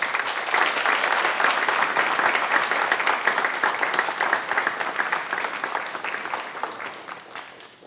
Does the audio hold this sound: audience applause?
yes